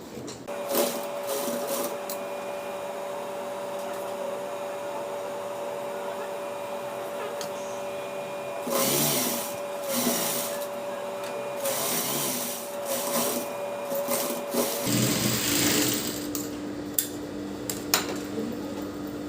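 A sewing machine stitches the side seam of a T-shirt converted from a chudidar, running in a steady whirring, rapid mechanical drone that stops and starts in bursts, with a few light clicks of handling the fabric.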